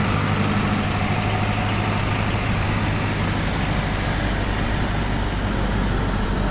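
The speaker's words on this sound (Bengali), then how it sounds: "এই জিপটা মূলত ডেডিকেটেডলি এখানেই থাকে। এটার মূল কাজই হচ্ছে নৌকাগুলোকে এখন যেভাবে দেখতেছেন এভাবে হচ্ছে টেনে তুলে আনা" Beach jeep kept on the shore to haul fishing boats in and out of the sea, engine idling with a steady low rumble, loud and continuous with constant outdoor noise around it.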